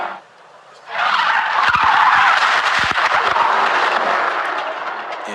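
Race car sliding with its rear wheels locked after a brake failure, a loud sustained skid and tire scrape lasting several seconds after a brief quieter lead-in.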